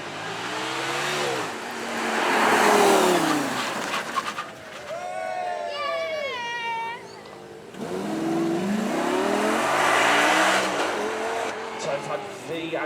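An open-roof, mid-engined V10 supercar revs at a supercar event, rising and falling through loud, sweeping engine notes with sharp pitch climbs, heard close amid outdoor crowd noise and a voice speaking briefly.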